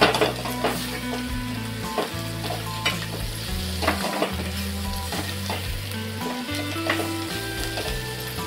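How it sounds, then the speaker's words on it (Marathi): Sickle senna greens (taklyachi bhaji) are stirred and fried in a pan, giving a steady sizzle broken by repeated scraping strokes of the spoon, with music playing underneath and no talking. "आता ही आपल्याला व्यवस्थित मिक्स करायची आहे।"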